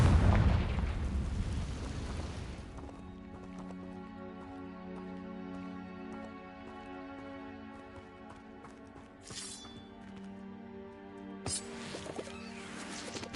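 A Confringo fire spell bursts with a loud, broad explosive blast in Hogwarts Legacy, then fades into a steady magical hum and drone, with two brief crackling flares later on.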